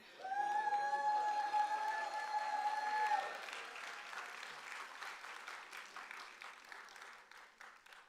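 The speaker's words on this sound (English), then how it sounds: "You can clap for them as long as you want." Graduates at a University of Texas at Dallas doctoral hooding ceremony keep up applause for friends and family, a broad wash of clapping in a large hall, heavy at first and then gradually thinning.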